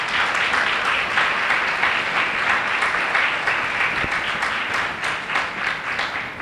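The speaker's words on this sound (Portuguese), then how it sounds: "Você pode aplaudir o Senhor, amado?" A church congregation applauds the Lord during a sermon, a dense, steady wash of clapping filling the whole stretch at close range with no voice over it.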